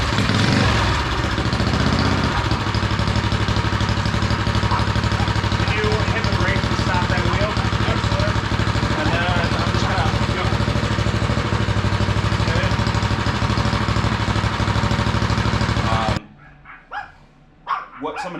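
A minibike engine runs loud and steady for a long stretch, droning close by, then cuts off, leaving brief voices and a dog barking.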